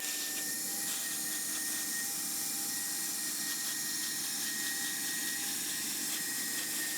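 A hot-air welding tool seals the corners of a vinyl pool liner, producing a constant loud blowing hiss with faint steady tones running unbroken throughout, and nobody talks over it.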